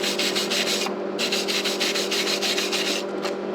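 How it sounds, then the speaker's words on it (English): A wire brush scrubs slag off a fresh weld bead in quick, rhythmic back-and-forth strokes, loud and close, with a steady hum underneath and no talking. "Then we'll use a wire brush."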